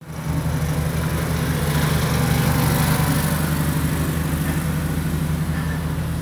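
A restored Toro Sandpro 14 bunker rake engine runs at a steady, loud, close drone, fresh plugs, oil and an adjusted carburetor giving an even, continuous note with no voices.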